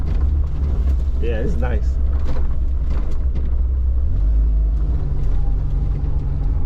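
Low engine rumble of a 1998 Jeep Wrangler rolling along a dirt road off-road, constant and close, with a person talking briefly over the drone.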